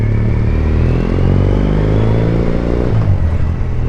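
A Triumph Bonneville motorcycle with a TOR exhaust rumbles steadily up close on a test ride, its low exhaust note holding at a constant throttle with slight wavering, no voices.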